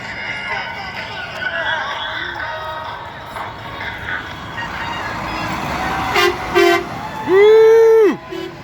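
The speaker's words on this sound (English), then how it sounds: "This is what honking at a rally sounds" Car horns honk at a roadside political rally under a busy wash of crowd noise and passing traffic, with short toots followed by one long, loud horn blast near the end.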